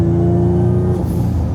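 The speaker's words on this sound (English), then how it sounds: "Love the turbo noises" A tuned Infiniti G35 engine running turbocharged at light throttle gives a steady, loud, close hum that holds level, with a thin high whistle over it and a faint shift near the end.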